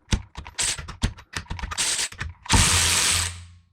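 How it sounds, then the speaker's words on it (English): Close, loud bursts from a DeWalt DCF513 3/8-inch 20V cordless ratchet running on a 5 Ah battery while torquing a bolt to 70 foot-pounds: rapid ratcheting clatter in several short pulses, then one sustained grinding run. "same test, but now at 70 foot-pounds with the 5 amp hour battery"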